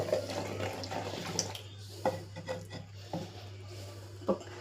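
A small amount of water is poured into a Tamil-style spinach (keerai) dish in a home kitchen, giving a soft, steady trickle and splash with a few light clinks of the vessel, close by and with no talking.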